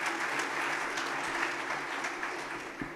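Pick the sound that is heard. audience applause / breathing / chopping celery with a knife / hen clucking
audience applause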